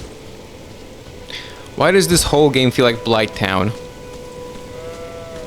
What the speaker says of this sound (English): It's raining now as well.